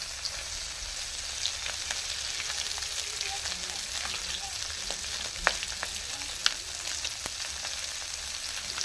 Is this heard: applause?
no